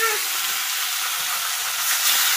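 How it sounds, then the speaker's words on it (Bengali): Small carp fish fry in hot oil in a wok, a loud, continuous bright sizzle that fills the moment with no voices over it. "বেশ কড়াইতে দেওয়া হলে এখন মাছটা ভাজা হবে।"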